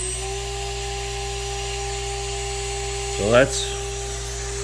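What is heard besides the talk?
Shapeoko Pro CNC spindle running wide open at 24,000 RPM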